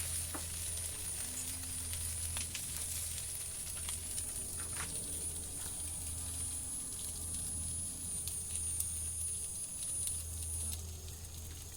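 Chinese sausage fries in a pan with plain water, giving a constant close sizzle with scattered crackles and occasional stirring clicks, and no one talking.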